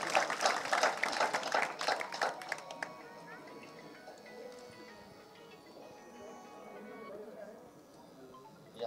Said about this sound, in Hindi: एक बार जोरदार तालियों से उनका अभिनंदन, स्वागत कीजिए